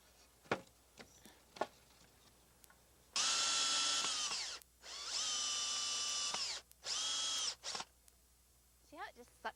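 A cordless power drill drives screws into wood on a patio privacy screen build, with three loud sustained whirring runs and a shorter final burst between quiet handling clicks.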